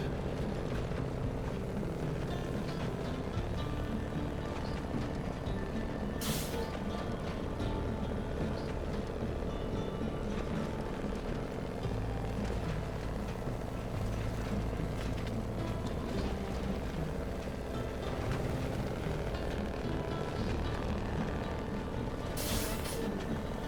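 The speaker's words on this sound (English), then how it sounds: "This truck does sound really cool." Truck engine in the SnowRunner video game on the Belozersk Glades map, a continuous heavy droning rumble with a shifting tone over about twenty seconds, punctuated by two brief hissing bursts like air brakes, with no talking.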